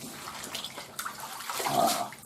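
Pork bones thrashed around in a tub of water give a short burst of sloshing and splashing that builds toward the end, close and moderately loud, with no voices.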